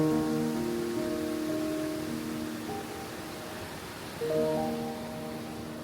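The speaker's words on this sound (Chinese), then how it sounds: "这瀑布的宽度比我想象中要宽不少" A waterfall at Jiuzhaigou roars as a steady, broad rush of falling water, constant and fairly close, with faint tonal sounds drifting over it.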